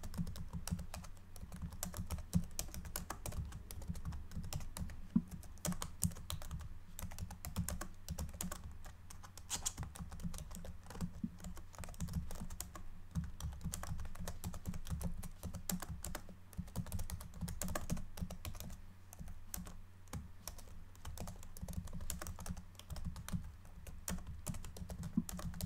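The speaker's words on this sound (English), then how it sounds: "nothing brought a smile to Stanley's face quite like the sound of a keyboard" Continuous computer keyboard typing, close and soft, with rapid uneven keystrokes clattering steadily for the whole stretch, no voice over it, in an ASMR office roleplay inspired by The Stanley Parable.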